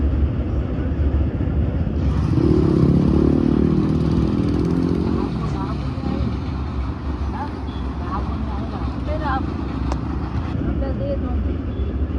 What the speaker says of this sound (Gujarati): તમે જોઈ શકો છો સામેથી બાઇક આવી છે